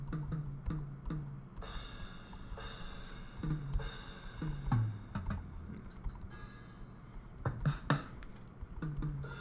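Computer keyboard keys tapped while playing notes with musical typing in a music production app, giving scattered light clicks in uneven bursts over a low background hum.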